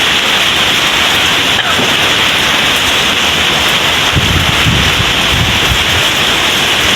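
Heavy typhoon rain pours steadily while strong wind roars continuously across the microphone, with deep gusty rumbles rising midway, during Typhoon Nika under signal number 3.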